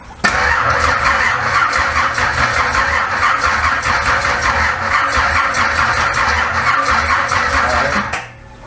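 The 468 big-block in a 1968 Camaro cranks steadily with a rapid, even starter rhythm for about eight seconds, loud and close, then the cranking abruptly cuts off.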